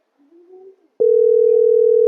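A phone call being placed gives a single steady electronic tone that starts abruptly after a brief faint murmur and holds evenly at close range until it cuts off.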